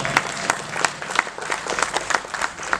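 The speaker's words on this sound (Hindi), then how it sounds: "खुद के लिए जोरदार तालियां बजाएं।" Audience at a live Bollywood-style musical night applauding loudly, a dense steady wash of many hands clapping with no voice on top, sustained for the whole stretch.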